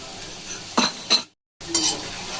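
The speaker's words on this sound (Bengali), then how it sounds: "এটাকে মিডিয়াম টু হাই ফ্লেমে ভাজবেন" Cauliflower and cabbage pakoras fry in plenty of hot oil over a medium-high flame: a steady sizzle broken by louder scraping stirs, with a brief cut to silence midway.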